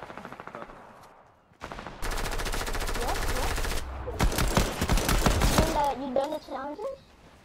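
Shotgun blasts from the Fortnite video game, a dense run of sharp, loud shots in rapid succession over game noise, with players talking over it.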